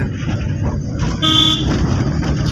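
A car horn gives one loud sustained honk near a vehicle on the road, standing out clearly over steady traffic and engine noise.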